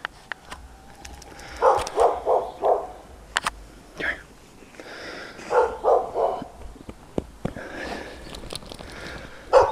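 A huge dog gives a few short bursts of barking in two or three clustered groups, moderately close, separated by quieter stretches of shuffling and snuffling.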